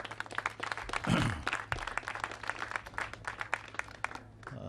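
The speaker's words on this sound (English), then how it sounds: "Why don't you give the mayor another big round of applause" Press conference audience in Leimert Park Village applauds the mayor of Los Angeles, fairly faint, light clapping from a modest crowd, rising briefly then tapering off.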